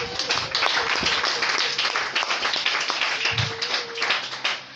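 A church congregation applauds in a dense, steady patter of clapping that fills the space, loud and continuous with a faint tone running underneath.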